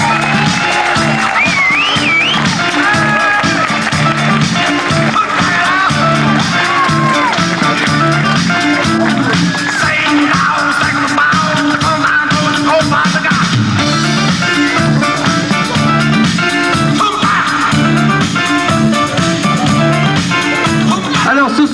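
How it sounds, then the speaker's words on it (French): Cabaret audience applauding, a dense, loud, sustained wash of clapping and crowd cheering that runs unbroken throughout, with a rhythmic musical backing underneath. "la seule chose qu'on réclame, c'est quelques applaudissements"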